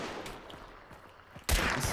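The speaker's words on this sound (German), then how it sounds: "Schöner Schuss." A single sharp gunshot cracks out near the end of a short stretch of quiet ambience in the video game Hunt: Showdown, loud and close.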